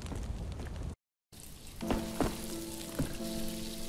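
Meat sizzling and frying over a cooking fire in the survival video game DayZ, a steady crackling hiss with a few sharper pops, briefly cut out near the start, with no talking.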